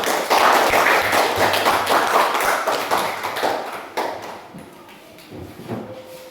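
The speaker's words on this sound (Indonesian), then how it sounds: "Tepuk tangan untuk kelompok 1." A classroom group claps after finishing a school drama performance, a dense burst of many hands that is loud for about four seconds, then thins and fades into quieter room noise.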